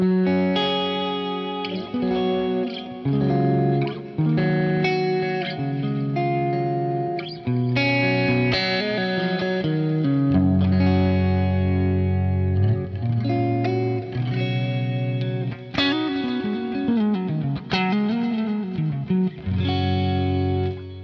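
Electric guitar played through a Marshall Plexi-style amp, a biting, slightly mid-forward distorted tone ringing out in sustained chords and melodic lines with a chorus-like shimmer, loud and continuous with brief gaps.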